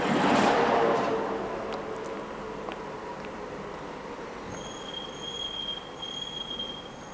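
Budapest trams from 1989 grind along the track, a loud rumble fading into a thin, sustained high-pitched wheel squeal that rings out repeatedly in the second half.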